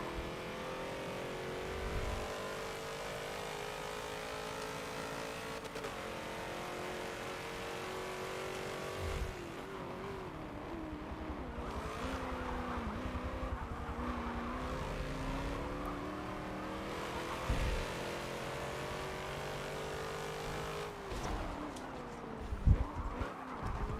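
Ferrari 512 race car engine in the Forza 7 racing game, a steady droning engine note with shifting pitch, gear changes and occasional sharp bumps, continuous throughout without talk.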